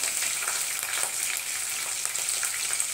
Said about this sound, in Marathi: इथे आपण 2 मिनिटं चांगलं परतून घेऊया।